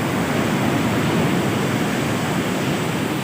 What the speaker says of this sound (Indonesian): cuaca ombak di sini sangat besar sekali untuk saat ini